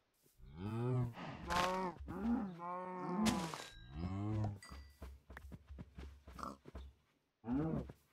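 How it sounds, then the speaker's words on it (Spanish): Cows and pigs in the Minecraft video game fill the stretch with repeated close moos and grunts, several drawn-out lowing calls overlapping with shorter snorts, loud and back to back with a brief pause near the end. "Pero ¿por qué solo hay vacas y cerdos?"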